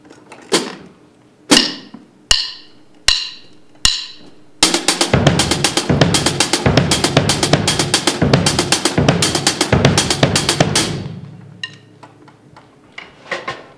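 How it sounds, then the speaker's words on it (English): A drum kit plays a groove spread across snare, bass drum and hi-hats, beginning with a few separate sharp hits and then settling into a steady, loud, busy pattern up close before it fades out, with no talking. "just apply it between the snare and the bass drum"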